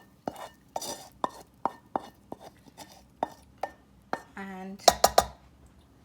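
Metal utensils clink and scrape against a pot while a mixture is stirred into rice for a Thanksgiving dinner, a run of sharp taps and clatters with a brief ring near the end and a voice speaking lightly over them.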